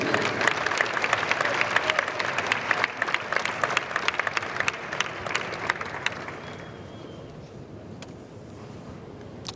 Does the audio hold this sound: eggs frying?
no